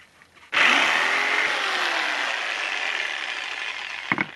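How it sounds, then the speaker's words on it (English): A jigsaw cuts a wooden board for a two-tone coat rack, starting abruptly and running as one steady, loud buzzing saw for about three and a half seconds before stopping, with a brief clatter at the end. "you can cut as precisely or as sloppy as you want with the jigsaw"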